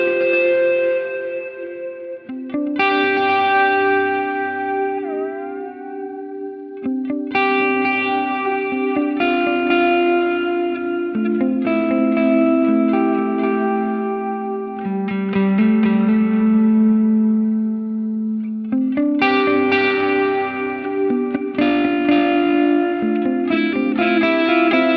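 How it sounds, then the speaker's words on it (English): A guitar played through the Heliosphere Delay on a Line 6 Helix, with loud sustained chords and notes smeared into lush, echoing repeats and a wide reverb-like wash throughout. "that's all just from the Heliosphere Delay"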